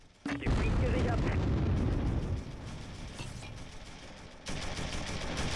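Mortar rounds burst in the Close Combat III war game, a loud sudden boom followed by a long rumbling, crackling decay and a second, lighter impact near the end, with speech around it.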